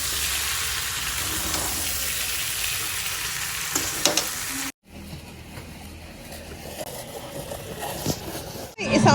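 Vegetable sabzi sizzles and fries in a hot pan in a home kitchen, a loud, steady hiss close by with occasional stirring scrapes, briefly cut off and resumed, and voices heard at times.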